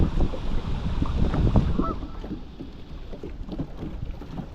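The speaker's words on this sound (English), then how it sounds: "This wind is crazy." Strong wind buffets a microphone beside a lake during a crappie fishing trip, a loud continuous low rumble and roar that swells early and eases off toward the end, with no talking.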